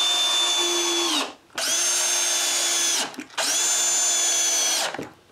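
Power drill driving screws into a TV swivel bracket, three loud, sustained whining bursts with short pauses between them, close by and with no voices.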